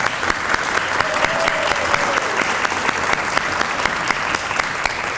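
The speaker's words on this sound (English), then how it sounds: "let's give you a round of applause" A Veterans Day audience at a university health campus applauds visiting veterans, broad continuous clapping from many people with a few sharper individual claps standing out, loud and close.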